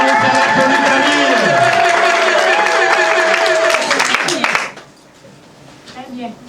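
Wedding guests at a civil marriage ceremony break into a burst of clapping and cheering mixed with voices, which stops abruptly, leaving quiet room sound.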